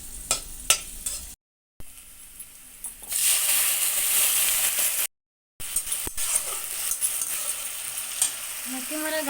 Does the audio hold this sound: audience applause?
no